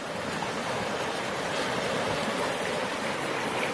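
A swollen river running beside the Appalachian Trail after two days of rain, producing a steady, broad rushing wash of water at moderate distance with no other sounds.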